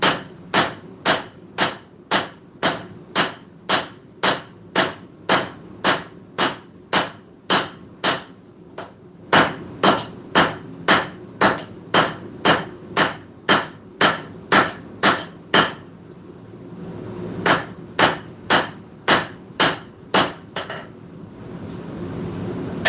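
A hammer strikes a blade being forged on an anvil in a shop, steady rhythmic metallic ringing blows about one per second, loud and close, continuing through a brief pause.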